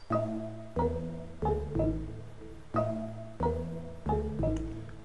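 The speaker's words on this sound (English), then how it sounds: "I use a Alpina plugin and then I just combine it with like a xylophone from Purity" Layered synth chords from an Alpina plugin combined with a Purity xylophone, with a bright mallet-like attack, struck in a steady rhythm of repeated notes, moderately quiet.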